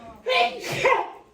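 A single quick sneeze, sharp and close, rising into a burst and trailing off in about a second.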